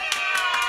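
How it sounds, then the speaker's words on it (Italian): Applause from a large live audience fills a TV studio, steady dense clapping with faint cheering throughout the short burst. "E questi sono applausi veri, mica quelli finti che mettono in giro"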